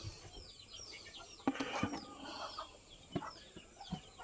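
Hens in a semi free-range coop with laying hens cluck in scattered, fairly quiet calls, with a few sharper clucks standing out against a soft background.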